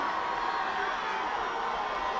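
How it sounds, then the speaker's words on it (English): A high school football crowd at a Central Catholic vs. Jesuit game makes a steady, broad roar of disapproval, with sustained booing and murmur and no breaks. It sounds moderately distant and fills the stadium. "I heard that crowd booing"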